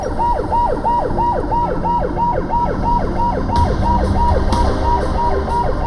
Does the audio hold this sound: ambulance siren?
yes